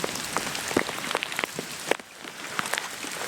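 Heavy monsoon rain falls over village farm fields, a steady dense hiss of drops striking the ground and water with scattered sharper splashes, loud and close throughout with no voices.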